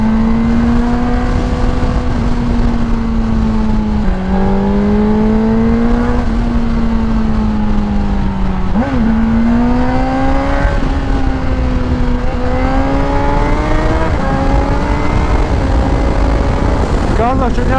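A car drives on the road to Shipka. A loud, steady engine drone is heard from inside, with pitch rising and falling as it shifts and accelerates, over constant road rumble.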